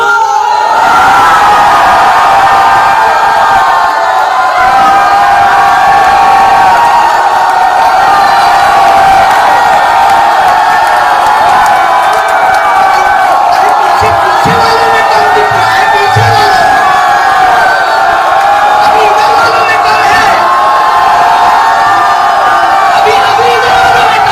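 A loud, dense crowd roars and cheers continuously with clapping mixed in, an audience at a network marketing training seminar, sustained and close, with shouts rising above the noise.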